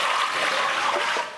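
Water poured into a small Diosna kneading machine's bowl, 2250 grams for a 100% whole-grain spelt seed bread dough, making a steady, close splashing rush that tapers off near the end.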